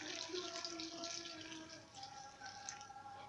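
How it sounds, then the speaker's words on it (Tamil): Hot water is poured over cauliflower pieces in a bowl, a steady close splashing trickle with bright watery hiss that runs unbroken for a few seconds. "சுடுதண்ணி இது நல்லா மூழ்கிற அளவுக்கு ஊற்றிக்குங்க."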